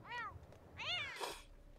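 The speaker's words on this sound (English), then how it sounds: "You upset my cat." A cat in The Sims 4 video game meows twice, fairly faint and close together, with a short breathy trailing sound after the second meow.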